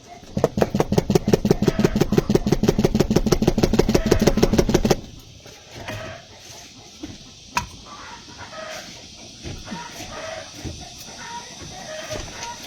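Chickens clucking noisily, a few short scattered clucks heard after a loud run of rapid, evenly spaced mechanical pulsing that stops abruptly, leaving a quieter background.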